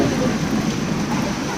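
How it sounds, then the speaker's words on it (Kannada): Heavy rain pours down at Kukke Subramanya, a loud, dense and steady roar of drops with a deep rumbling undertone and no talking. "ಮಳೆ ಬರ್ತಾ ಇದೆ, ಕೊಡೆ ತೆಗಿ."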